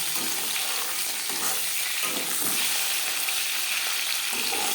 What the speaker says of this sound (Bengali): মাছ আমি হালকা করে ভেজে নিলাম আপনারা চাইলে এর থেকেও কড়া করে ভাজতে পারেন